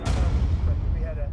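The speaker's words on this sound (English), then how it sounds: "Fresh explosion across Tehran." A single loud explosion from a strike in Tehran during the Israel-Iran conflict, a sharp close blast at the start followed by a rumbling, decaying roar in news footage.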